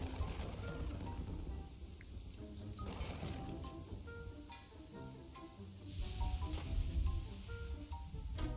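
Steady rain ambience in the medieval city-building game Kingdoms and Castles, a moderate continuous hiss of falling rain with low rumble, swelling slightly louder near the end, with scattered soft game interface sounds.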